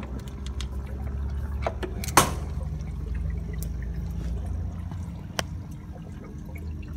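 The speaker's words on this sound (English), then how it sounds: "there's water clearly coming out of that filter." Water trickles and dribbles steadily from an unplugged Unimax 700 aquarium filter running by siphon, a soft close flow with a single louder splash-like knock partway through and another small tap later.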